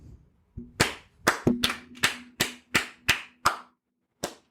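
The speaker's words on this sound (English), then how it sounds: "Why are you clapping for that?" A single pair of hands claps about nine times in a slow, slightly uneven rhythm, each clap sharp and close, with a short pause before the last one and a faint hum underneath.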